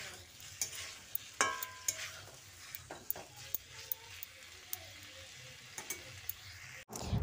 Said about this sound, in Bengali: করলাটা দিয়ে কুমড়োর সঙ্গে আরও কিছুক্ষণ মিশিয়ে নিচ্ছি